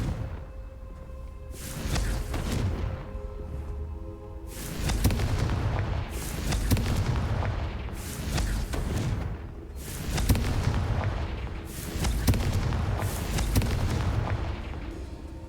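Repeated booming Confringo spell explosions in Hogwarts Legacy, about six heavy blasts arriving at a steady rhythm every couple of seconds, each trailing off in a rumbling tail. No talking.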